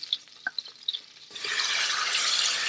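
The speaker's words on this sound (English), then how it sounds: "now we're going to add our diced bacon" Diced bacon drops into melted butter in a hot Instant Pot on sauté and bursts into a loud, steady sizzle that carries on to the end, following a few light clinks and taps beforehand.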